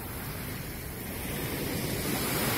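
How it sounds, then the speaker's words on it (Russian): Grey-green sea waves wash and roar steadily on a cloudy day, a continuous broadband surf with wind noise on the microphone and no voices. "какие волны"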